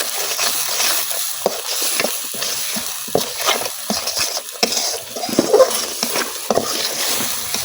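Spice paste of chilli powder, coriander powder and salt being stirred and fried in a pan for beef curry, with loud, close sizzling broken by repeated scraping and clattering strokes of the spoon against the pan.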